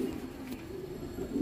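Racing pigeons cooing softly in a loft, low repeated throaty coos layered close together, faint and alone without talk.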